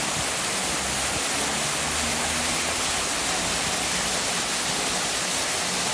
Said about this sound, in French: je vous montre déjà aussi cette belle cascade